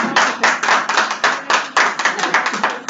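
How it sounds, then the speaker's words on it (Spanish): A small group claps at an inspirational seminar in Los Angeles, with loud, close, quick irregular hand claps building in overlapping bursts and no talking over them. "el señor Alejandro C. Aguirre, para cual le pido un aplauso."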